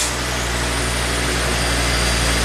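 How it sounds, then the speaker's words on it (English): A 2005 Volvo XC90 Turbo engine runs steadily at idle after starting, a continuous low rumble filling the whole stretch at close range with no voices. "I'm going to crank it, fire it up."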